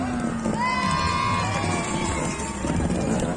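Large outdoor crowd at a motorcycle trial show in Pecquencourt cheers and shouts loudly and steadily, with children's voices and whistle-like cries rising through the sustained roar.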